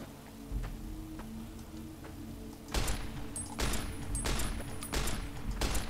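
Gunshots in the video game Warhammer 40k: New Vegas, a quiet stretch giving way to several loud bursts of gunfire from about the middle onward, with no talking.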